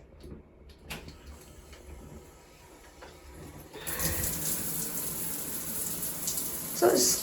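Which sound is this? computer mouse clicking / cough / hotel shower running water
hotel shower running water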